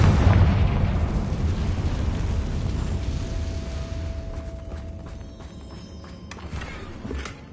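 A Confringo blasting spell in Hogwarts Legacy on PS5 goes off as a loud, close explosive boom that rolls into a long rumbling decay, followed by faint footsteps and a few small crackles.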